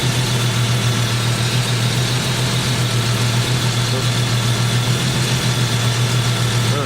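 A Jeep engine with a loose connector idles in a continuous low drone with a steady hum, heard up close and alone without any voices.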